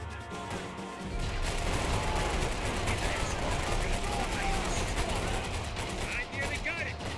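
Dense, continuous gunfire and bullet whizzes from the video game Max Payne 3, loud and sustained after a brief quieter start, with shots and crashes blending into a constant battle roar.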